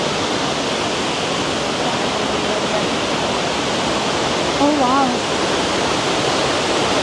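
Water rushes steadily at Infinity Farm, a loud, continuous broadband roar filling the whole stretch, with a brief exclaiming voice midway.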